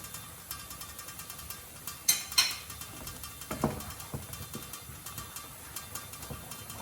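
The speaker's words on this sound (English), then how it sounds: "We're going to add a teaspoon of cumin powder into the dal now and give that a mix." A spoon stirs teaspoon of cumin powder into channa dal in a pot, giving a few scattered scrapes and clinks against the metal with louder knocks near the middle, close and fairly faint.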